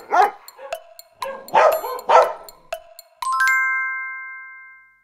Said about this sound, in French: c'est le chien qui aboie